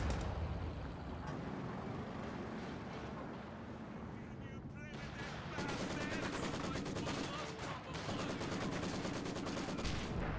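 Dense, continuous battle noise in Company of Heroes 2: rapid gunfire, grenade blasts and heavy booms pile up at a steady distance with no pauses.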